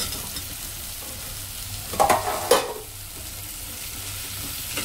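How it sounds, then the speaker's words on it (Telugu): Okra pieces hit a pan of cooked-down tomato and sizzle steadily, with a couple of brief louder scrapes and splutters from stirring in the middle of an otherwise even fry. "బెండకాయ ముక్కలు వేస్తాను."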